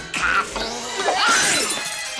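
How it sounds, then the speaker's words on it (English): A glass coffee pot is smashed by a gremlin in a Gremlins 2: The New Batch film scene, giving a sharp shattering crash followed by a scattered, tinkling spill of breaking pieces, loud and close. "It's great how overjoyed the gremlin is by smashing the coffee pot."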